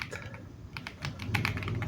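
Fast typing on a Royal Kludge RK75 keyboard, a dense run of crisp, close keystrokes in uneven bursts, loud and alone with no voices.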